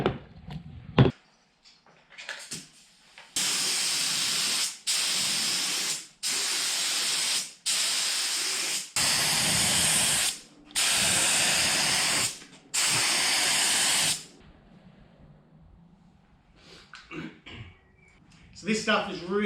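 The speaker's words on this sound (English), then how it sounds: "So let's chuck it in the gun, we'll suit up and spray it down." Bursts of a spray gun applying cold galvanising zinc paint, straight from the tin without thinners: about seven loud, sustained hissing blasts of a couple of seconds each, separated by brief pauses, close by.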